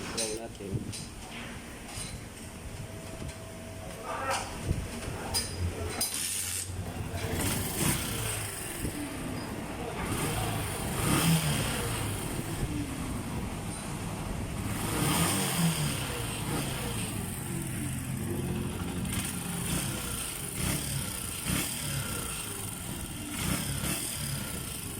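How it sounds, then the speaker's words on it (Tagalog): A Honda TMX Alpha motorcycle is kickstarted and left running, its engine chugging steadily close by with clinks of work nearby and voices talking over it. "subukan nating i-kickstart at paandarin natin yung motor"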